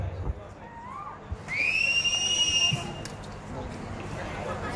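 A single loud, sustained whistle rises from the audience during a Shivgarjana chant at a sangeet night. It lasts over a second, over the hubbub of a crowded hall with scattered voices.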